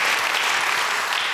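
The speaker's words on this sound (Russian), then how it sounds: "Давайте наградим аплодисменты." A television game-show studio audience applauds steadily, a dense, even wash of clapping hands throughout.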